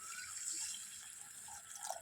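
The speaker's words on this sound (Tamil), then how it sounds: "தண்ணி ஊற்றி வச்சுங்க" A soft, steady hiss of water being poured into a cooking pan of sundakkai (turkey berry) kuzhambu, close by and fairly quiet, with no voices.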